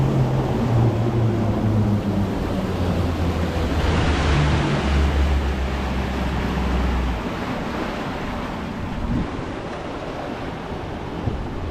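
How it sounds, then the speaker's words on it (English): Steady churning, boiling river current below nearby dams, heard from a cruise boat in Voyageurs National Park as a continuous broad rushing wash with wind buffeting the microphone and a low engine hum, no talk. "There's some churning, some boiling in the water."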